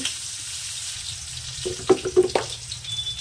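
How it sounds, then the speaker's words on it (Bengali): Potatoes fry in hot oil with cumin seeds and slit green chilli for a tengra fish curry with peas: a soft, steady sizzle with a short cluster of utensil clinks and scrapes in the middle. "আলুটাকে সুন্দর করে একটু ভেজে নেব।"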